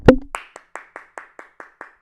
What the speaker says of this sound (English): Round of applause for yourselves for an amazing 2024.